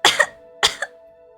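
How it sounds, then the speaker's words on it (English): A young woman coughs twice in the visual novel game Cupid Parasite after being pulled from the water, each cough a close, sharp, breathy burst. "I coughed, trying to breathe in as much air as possible."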